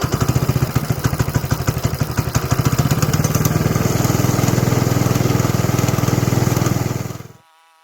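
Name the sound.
moto monster go kart engine running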